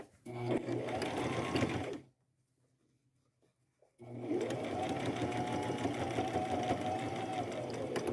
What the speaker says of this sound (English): I'll just go over those two stitch lines like I did at the top.